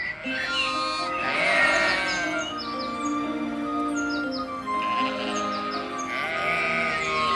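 A flock of sheep bleats in the mountains, several overlapping wavering calls close by, with bird chirps mixed in behind them.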